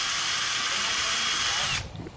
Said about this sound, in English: You want to go ahead and drill through the leg.